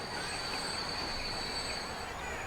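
Trains running in the video game Transport Fever, a steady broadband rail rumble with a faint high whine throughout, continuous and fairly loud with no clear pauses.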